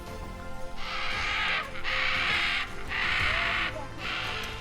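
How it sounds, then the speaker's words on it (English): Macaws at a zoo squawk in four long, loud, harsh bursts with short gaps between them, close and dominant over a low background rumble. "The macaws sure are giving her a loud goodbye."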